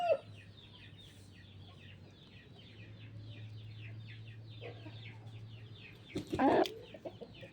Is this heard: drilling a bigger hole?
no